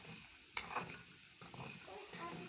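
A spoon stirring corn pieces roasting in a pan: three short scraping strokes with a faint crackle between them, quiet and close.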